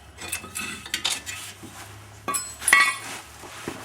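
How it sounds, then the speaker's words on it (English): Metal tools clink and rattle against a Subaru GL's brake hardware as the two 17mm nuts holding the caliper bracket come off, with scattered sharp chinks and taps at close range and no talk. "remove the caliper bracket itself by taking out the two 17mm nuts on the back side here"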